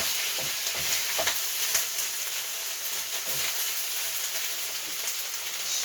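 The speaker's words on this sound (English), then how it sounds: "It's got those onions in there and cooking." Onions and corn cooking in a pan, with a continuous sizzle and scattered light crackles and stirring taps, rain-like and steady, nothing spoken.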